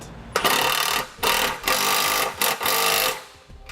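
Rapid ratcheting of a 7/16 socket and wrench tightening a bolt behind the bumper of a 2018 Chevrolet Sonic, in short bursts of fast clicking separated by brief pauses.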